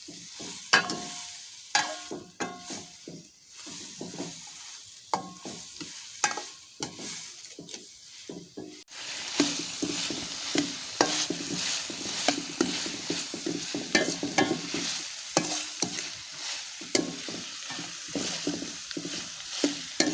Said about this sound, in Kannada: ನಮಗಿದು ಚೆನ್ನಾಗಿ ಡ್ರೈ ಆಗುವವರೆಗೆ ಇದನ್ನು ನಾವು ಫ್ರೈ ಮಾಡಿಕೊಳ್ಬೇಕು